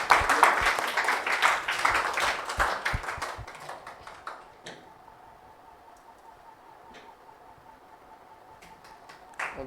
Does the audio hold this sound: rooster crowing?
no